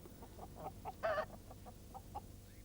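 Cartoon farm chickens cluck softly nearby in a steady scattered pattern, with one louder squawk partway through over a low background hum.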